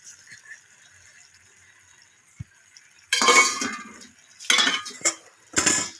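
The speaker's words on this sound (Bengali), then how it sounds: "চিড়াটা দিয়ে দিয়েছি, মিশিয়ে দিয়েছি।" A spatula stirs flattened rice into a dry Bengali fish head curry in a pan, giving three bursts of scraping, clinking stirring after a quiet start with a faint steady hum.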